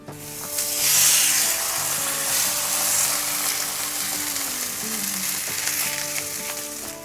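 Thalipeeth flatbread frying on a hot oiled griddle over medium-low heat, a steady close sizzle and crackle of oil that holds level throughout with no talking.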